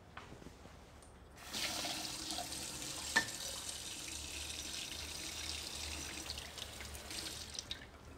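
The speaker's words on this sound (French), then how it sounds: "toujours la petite astuce de la lame passée sous l'eau chaude" Hot water from a kitchen tap runs over a knife blade before slicing foie gras terrine, a steady close hiss that starts abruptly and continues, with one brief clink partway through.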